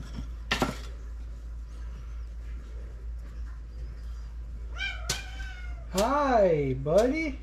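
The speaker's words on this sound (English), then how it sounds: "What you yelling about, Mr. Cat?" A cat yells with several drawn-out, rising and falling meows and caterwauls, close and loud, mostly bunched toward the end, after quieter scattered sounds and a few brief noises.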